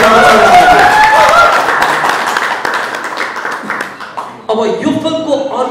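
Crowd clapping for Pradeep Rawal at a Nepali dialogue competition show, a burst of applause and claps under a host's voice that thins out toward the end.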